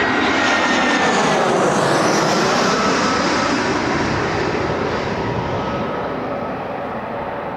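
An Aer Lingus airliner arriving from Ireland roars overhead, a loud, continuous broadband engine rumble with a whining edge that slowly fades as it passes.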